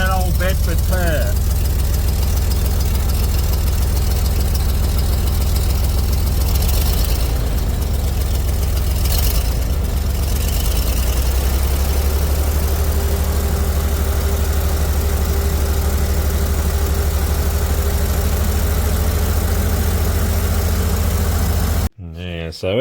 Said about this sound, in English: So listen to that old Bedford purr.